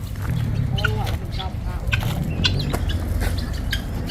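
Chicks cluck and peep in quick bursts nearby while a person talks over them throughout.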